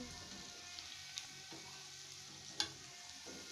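Battered cauliflower pieces deep-frying in hot oil for Gobi 65, a steady quiet bubbling sizzle with a few faint clinks and one sharper tap of a utensil.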